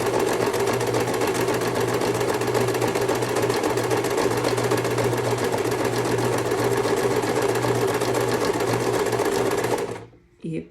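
Sewing machine stitching a buttonhole on a tailored vest, a loud, fast, continuous mechanical whirr of the needle going back and forth that runs steadily, then cuts off near the end with a brief restart.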